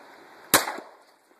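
A single sharp .22 rifle shot fired at a fish in water, one close crack with a brief splashy tail and echo before quiet returns.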